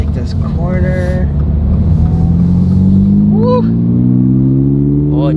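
A 2022 Subaru BRZ sports car accelerating hard through a corner, its engine climbing steadily in pitch, loud and close from inside the cabin, with voices briefly heard over it.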